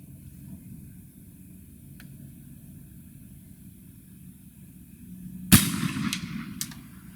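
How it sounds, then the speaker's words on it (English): A single sharp report from an 1853 Enfield black powder rifle loaded with a 65 grain charge and a Lee bullet, fired outdoors after a quiet stretch, followed by a brief echoing tail. "One more, this will be the last shot."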